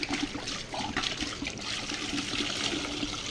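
Boiled water gurgles and splashes as it is poured into a jug for a five-gallon batch of mead, a steady close pour lasting a few seconds with no voices.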